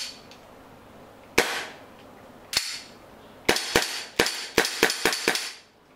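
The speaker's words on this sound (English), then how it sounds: "I'm just going to quickly dry fire it for you, just to give you a quick show." Steel airsoft pistol dry fired in an airsoft store, sharp metallic snaps of the slide cycling: two spaced shots followed by a quicker run of about six, loud and close.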